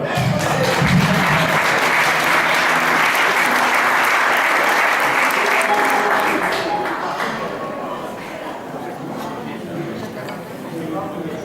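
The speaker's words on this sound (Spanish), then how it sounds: "Venga, un aplauso para él" Loud, dense applause from the audience at a peña aragonesa anniversary celebration in Puerto de Sagunto, steady for about seven seconds before easing into lighter clapping, with voices mixed in.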